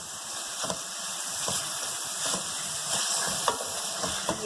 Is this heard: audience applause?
no